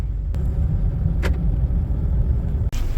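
A taxi car in Kyiv drives along with a steady low engine and road rumble, a few faint clicks and knocks inside the cabin, and no talking.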